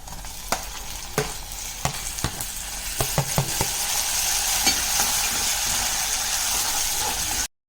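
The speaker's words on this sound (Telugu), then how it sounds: "ఇప్పుడు మనం ఈ టైంలో టమాటాలు వేసుకుందాం" Onions, green chillies and tomatoes fry in a pan, a loud continuous sizzle broken by repeated sharp scrapes and knocks of stirring, ending abruptly.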